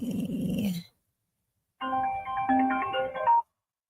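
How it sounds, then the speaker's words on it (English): An incoming phone call sets off a melodic ringtone in short bursts, a tonal chime pattern that starts, cuts off into silence, then plays again clearly and close for over a second. "I'm getting phone calls."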